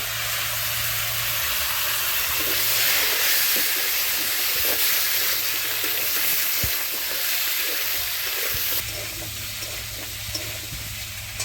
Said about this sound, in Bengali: মাছ ভাজার তেল আমি ফোড়ন দিয়ে দিচ্ছি গোটা জিরে।